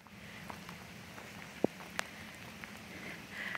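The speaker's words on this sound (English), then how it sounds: "it's starting to rain real hard" Steady rain falls hard near a bridge, a continuous soft hiss of drops with a couple of sharper taps standing out, fairly faint and with no talk.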